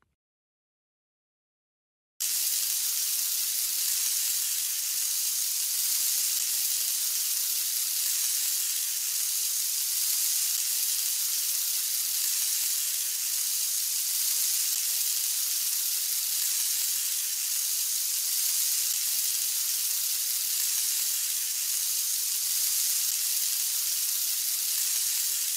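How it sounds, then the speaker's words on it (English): Butter melting and sizzling in a pan in a Curious George pancake-cooking video game, a steady bright hiss that starts abruptly after a short silence and holds evenly without talk. "We need to melt some butter in the pan so the pancakes won't stick."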